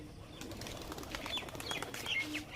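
Loft pigeons, Najra Kaldum and other breeds: a soft, faint patch of fluttering wings and light bird sounds against a steady low background hum.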